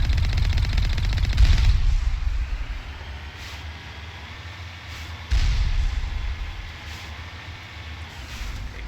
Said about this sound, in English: And there's the turret.